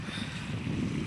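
Waves wash continuously on a large lake near a village Hanuman temple, a soft broad rush mixed with wind buffeting the microphone.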